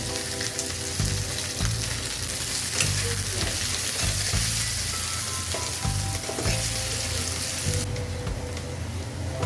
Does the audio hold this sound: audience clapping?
no